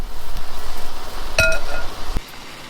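A utensil clinks against a pot while potatoes are stirred for salty snow potatoes, one sharp ringing clink with a second softer tap shortly after, close over a steady low background hum.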